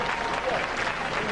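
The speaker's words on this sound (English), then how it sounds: "Give them a round of applause, ladies and gentlemen." A Robot Wars studio audience from 1998 breaks into steady, full applause, a dense wash of clapping that fills the whole moment.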